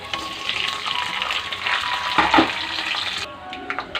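Spices dropped into hot oil with garlic for a dhaba-style chicken curry, giving a steady broadband sizzle with a brief louder crackle burst midway, then settling quieter near the end; no talking.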